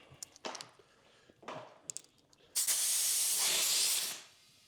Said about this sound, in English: Wait till all the air comes back out and I'll put in the valve core.